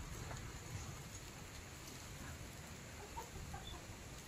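Steady light rain falling outdoors, a faint continuous patter with no voices, heard while a truck waits loaded with stock.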